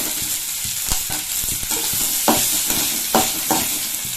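Grated coconut sautés in a pan for ridge gourd peel chutney, with a bright steady sizzle and repeated scraping strokes of a spatula, close and fairly loud with no talking.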